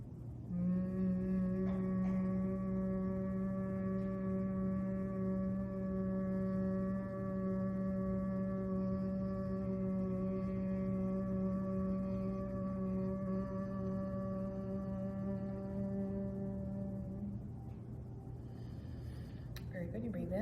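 A human voice hums a long, steady tone on one exhale during bumblebee breathing, a rich sustained buzz close and clear for about seventeen seconds before fading into quiet breath.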